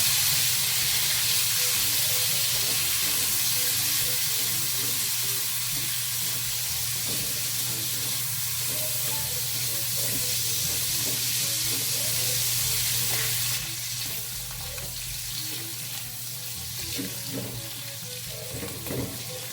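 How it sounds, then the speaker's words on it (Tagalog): String beans sautéing in a frying pan, a dense continuous sizzle and hiss with occasional stirring clatter, steady and close, easing slightly toward the end. "dito po sa kawali ay igigisa na po natin yung ating sitaw"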